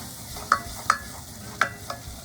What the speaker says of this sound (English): Now I'm just gonna mix it again.